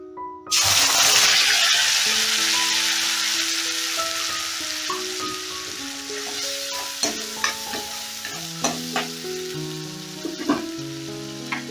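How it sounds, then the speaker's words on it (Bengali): Ginger garlic paste hits hot oil already holding a bay leaf and a dried red chilli for spicy chilli chicken, bursting into a loud, steady sizzle that slowly settles, with occasional spoon scrapes and stirring clinks. "এবারে আদা রসুনের পেস্টটা দিয়ে দিচ্ছি।"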